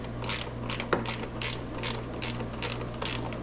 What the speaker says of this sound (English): What you need is a 10mm wrench. And I'm just going to start on the back side here.